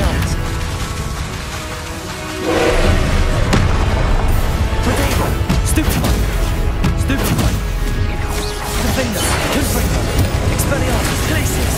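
A spell cast in the video game Hogwarts Legacy gives loud crashing, booming magical impacts over dense, continuous combat noise, with a brief quieter lull before a heavy burst.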